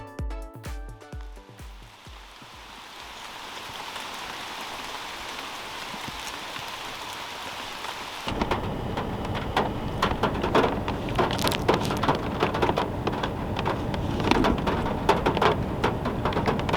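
Rain falls steadily on a pond where someone is out fishing for smallmouth and largemouth bass, a broad continuous patter that starts softly after a few brief tones, then swells and turns louder and closer partway through.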